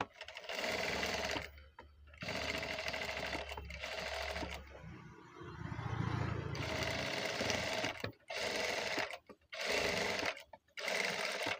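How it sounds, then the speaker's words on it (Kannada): A sewing machine stitches the neck of a blouse in several steady, whirring bursts separated by short pauses, close by. Brief quiet talk is heard during one of the gaps. "ಸ್ಟಿಚ್ ಮಾಡ್ಕೊಂಬಿಡೋಣ."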